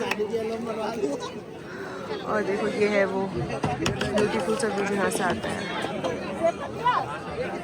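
Busy overcrowded babble of pilgrims at the Bhairav Baba temple on the Vaishno Devi yatra route, a steady loud crowd murmur. A close voice talks over it throughout.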